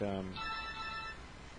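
A phone rings loudly during a radio show, a brief electronic ringtone burst followed by a sustained tonal chime that fades out.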